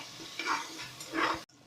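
Chicken biryani ingredients being stirred in a pan, two soft scraping, swishing strokes about half a second apart over a light sizzle, ending abruptly.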